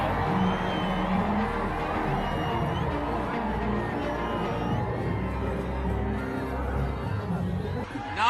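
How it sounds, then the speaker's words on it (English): A large crowd gathered for BRS leader KT Rama Rao at a Telangana election event cheers and shouts continuously, a steady roaring hubbub of voices with whoops rising throughout. "Now these crowds have come to cheer you."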